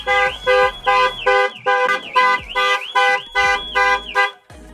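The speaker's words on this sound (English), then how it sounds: "and the alarm goes mental" A Range Rover Evoque's alarm blares nearby in a rapid repeating pattern, loud rising-and-falling pulses about every half second, stopping abruptly near the end.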